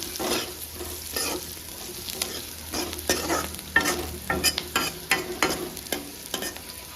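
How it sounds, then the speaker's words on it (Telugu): Mustard seeds, cumin, green chilies, onion and chana dal fry in a kadai for ivy gourd tamarind curry. A close, steady sizzle is broken by frequent scraping and clattering strokes of a spatula. "మళ్ళీ శనగపప్పు అన్నీ వేసేసి నేను మళ్ళీ ఫ్రై చేస్తాను."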